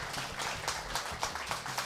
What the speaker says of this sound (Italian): vi invito ad accoglierla con un calorosissimo applauso